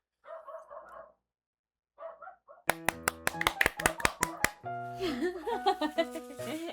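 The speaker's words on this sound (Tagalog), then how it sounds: "Nagalit yung aso ng kapitbahay namin." A neighbour's dog barks in a rapid volley of sharp, loud barks, then breaks into whining, howling yelps, after a few short bursts of speech before it starts.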